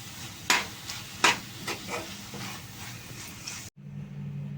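A spoon stirs amaranth stalk and chana dal curry in a pan, with a few scraping knocks and a soft sizzle, close by, ending abruptly with a quieter hum.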